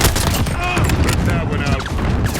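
Dense, rapid video game gunfire crackles continuously at close range, layered shots and bursts overlapping, with a voice talking over the din.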